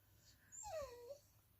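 A female dog, kept tied outside in the cold and snow, lets out a single soft, drawn-out whimper that rises and falls, faint against a quiet background.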